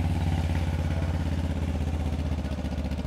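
A Benelli TRK 702X twin-cylinder motorcycle engine runs at a steady idle close by, with a deep, pulsing, throbbing beat and a slight mechanical clatter and no voices over it.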